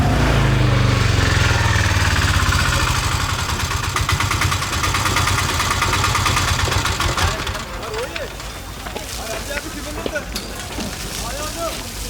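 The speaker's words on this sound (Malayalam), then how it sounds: "ഓട്ടോറിക്ഷയുടെ ശബ്ദം കേട്ടപ്പോഴത്തേനും കയറി വിളിച്ചതാ." An autorickshaw engine idles nearby with a loud, rapid putter for several seconds, then fades lower as people start talking over it.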